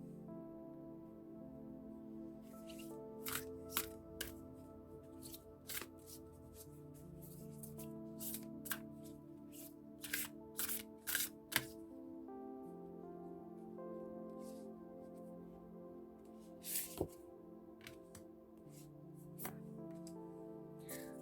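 Tarot cards are shuffled and drawn by hand, giving soft papery flicks and a few sharper snaps scattered over a quiet indoor background.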